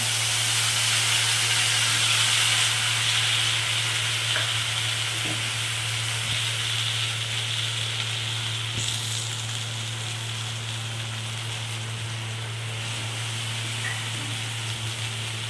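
Pointed gourd frying in oil with nigella seeds, poppy seeds and ground peanut paste gives a steady, close sizzle and hiss that carries on unbroken, with faint scrapes of stirring and no voices.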